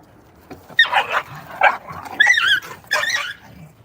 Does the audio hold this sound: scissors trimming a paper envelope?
no